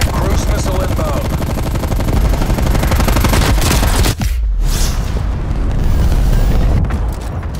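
Heavy battlefield noise in Call of Duty builds from rapid gunfire into a deep, rumbling cruise missile blast that briefly drops everything out before a long roaring low-end swell, with radio voices faintly under it.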